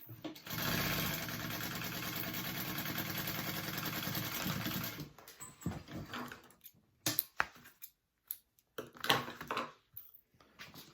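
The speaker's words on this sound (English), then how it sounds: "So we're just basting the slip pocket onto the back of the pocket." A sewing machine runs in one steady burst while basting a slip pocket onto a tote bag, then stops, leaving scattered handling clicks and rustles. The sound is close and fairly quiet.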